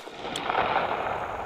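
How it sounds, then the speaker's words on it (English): An M320 grenade launcher mounted on an M4 carbine fires on a training range, giving a sharp report that rolls into a sustained, muffled rumble lasting over a second at moderate distance, with no talking. "Cav Scouts get hands-on experience with even more powerful weapons, like the M320 grenade launcher, which attaches to the M4 carbine"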